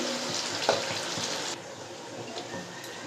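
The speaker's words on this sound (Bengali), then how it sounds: "অল্প সামান্য জল দিয়ে" Water is poured into a cooking pot while preparing restaurant-style doi chicken, a steady broadband rush that runs for about a second and a half, then drops to a quieter trickle and fizz.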